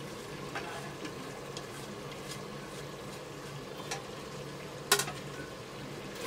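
Crushed golden brown onions go into meat masala frying in a pot for aloo gosht, giving a steady close sizzle with stirring scrapes and one sharp clatter near the end.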